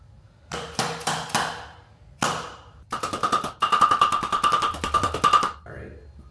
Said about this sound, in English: We're gonna take this hammer and just give it some nice gentle taps.